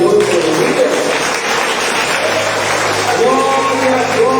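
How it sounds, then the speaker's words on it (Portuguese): A church congregation applauds during a sermon, loud and sustained clapping that fills the room, mixed with voices and musical tones underneath. "Podemos, queridos, aplaudir ao Senhor pelo dia."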